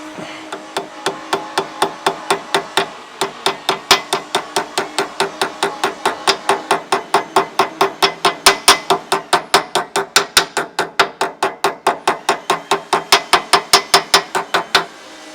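A hammer gently tapping a replacement axle seal into place, producing a long, even run of light metallic taps at roughly three or four per second, close and clear with no talk.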